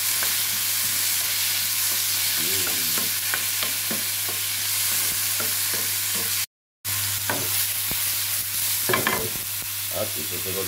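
Garlic, onion and then tomato fry in a pan for green bean guisado, giving a steady sizzle. Stirring scrapes and clatters come in irregular bursts over it, close up, with one brief dropout.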